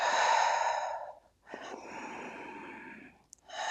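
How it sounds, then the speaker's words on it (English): Slow, audible breaths during a yoga triangle pose: a long exhale, a brief pause, another drawn-out breath, then a fresh inhale, close and quiet with no speech. "Let's take a couple breaths here."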